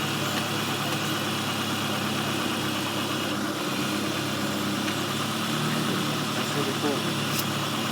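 A car engine runs steadily up close, a dense continuous mechanical drone with no clear surge in pitch.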